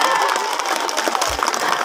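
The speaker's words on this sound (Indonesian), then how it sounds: "Tepuk tangan dulu." A short burst of audience clapping rises at an Indonesian village independence-day parade competition, a dense patter of many hands lasting under two seconds.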